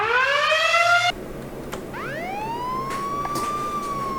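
A police siren in the video game Killer in Purple 2 blares loud and near, a rapid rising wail cutting off before a fresh siren sweep climbs and holds steady.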